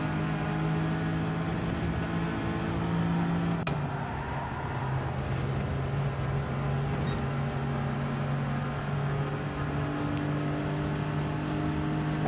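A Ferrari in Gran Turismo 7 drives steadily, its engine a sustained droning hum with pitch shifting up and down through gear changes and corner exits, continuous and moderately loud with no talking.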